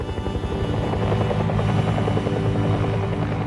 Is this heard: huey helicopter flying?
yes